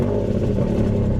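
A Porsche engine running rough just after being jump-started from a jump pack: a steady, close, low-pitched idle with a coarse, uneven rumble throughout.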